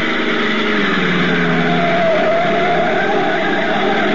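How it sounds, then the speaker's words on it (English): A sedan's engine drone as it climbs a winding mountain road, a steady, loud motor hum with a slight rising whine midway, played alone as an old-time radio drama effect. "a black sedan twists up the curving mountain road leading to the inland plantation country of Puerto Rico"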